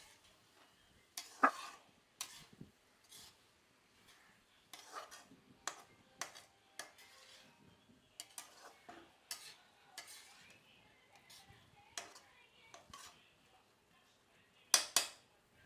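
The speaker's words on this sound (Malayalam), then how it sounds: "ഇനി സവാളയൊക്കെ നല്ലതുപോലെ ഒന്ന് റോസ്റ്റായി വരട്ടെ." Onions and tomato roasting in oil in a pan, heard as a soft, quiet sizzle broken by frequent, irregular scrapes and clinks of a spoon stirring against the pan, with a sharper knock near the end.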